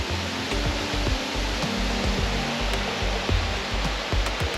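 Water pours steadily through a small sluice outdoors, a continuous close rushing wash with low thuds underneath and no talk.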